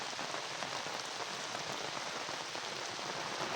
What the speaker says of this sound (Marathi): असा पंधरा सोळा दिवस पाऊस जोरात पडताच आहे